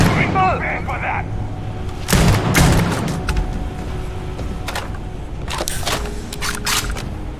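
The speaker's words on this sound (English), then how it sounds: "I really like this shotgun." Sharp, booming shotgun blasts in the video game Starfield, one heavy shot followed later by several more in quick succession, over a low ambient hum with a little talk at the start.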